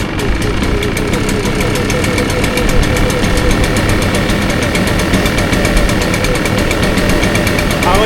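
Echo PB-580T backpack leaf blower's small two-stroke engine idling steadily, a continuous buzzing drone with rapid firing pulses, close and loud throughout with no pauses.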